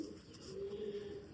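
Golden pigeons from a prized breeding line coo in a low, steady drone that runs under the whole moment, with a faint voice underneath.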